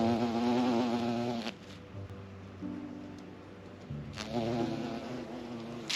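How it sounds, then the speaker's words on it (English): A bee buzzes around phlox flowers in a garden, its steady hum close and clear and shifting in pitch as it moves. "Oh, hello, bee."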